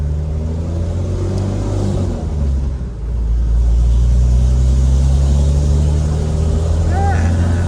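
Porsche engine idling and warming up after sitting unused, a loud close low rumble that dips briefly then settles into a steady drone, with people talking over it.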